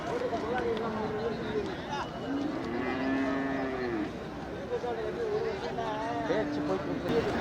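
Cattle low at the Manapparai cattle market, with several long drawn-out moos, some close, rising above a noisy crowd of people talking.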